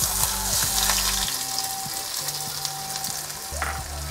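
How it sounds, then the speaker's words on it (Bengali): Chopped onion sizzles steadily in hot white oil in a pan, a loud close frying hiss with faint stirring clatter and low background tones, no voices. "এখন এর মধ্যে পেঁয়াজ কুচি দিয়ে দিচ্ছি।"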